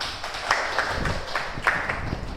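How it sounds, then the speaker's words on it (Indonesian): Scattered classmates clap in a classroom after a student's answer during a mathematics lesson, a thin, uneven patter of hands with a few sharper claps standing out, moderately close and without talk. "Tepuk tangan untuk Yohana"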